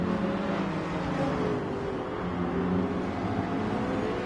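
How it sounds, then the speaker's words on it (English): Racing car engines in the video game GT Sport drone and rev at moderate volume, a continuous motor hum with shifting pitch, no voices. "listen to these cars drive one last time, listen to the pure engine sounds"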